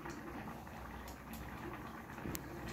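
Lentils (dal) boiling in a pot, a quiet continuous bubbling simmer with occasional small pops, close and faint, no voices.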